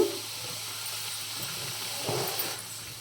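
Garlic paste and dried red chillies frying in a pan give off a steady, soft hiss and sizzle throughout, with a slightly louder flare of crackle near the end.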